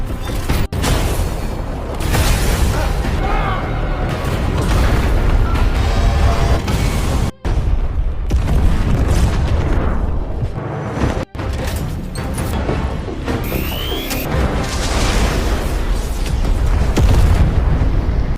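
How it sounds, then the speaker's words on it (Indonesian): An explosion in the film War Machine, where a war machine's engine overheats from coal until it blows apart from within: a dense, sustained roaring blast of booms and rumbling bursts, loud and close, broken by two brief cuts, with no voices. "Batu bara yang masuk ke dalam mesin membuat sistemnya mengalami panas berlebih hingga akhirnya meledak dari dalam."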